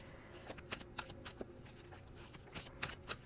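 Tarot cards are shuffled by hand with soft, quiet riffling and papery flutters that come in uneven bursts, close by but faint.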